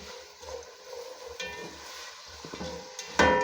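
Carrots fry with garlic in a pan, making a soft, even sizzle broken by a few stirring scrapes and a sharp clack of the utensil at the end, with no voices.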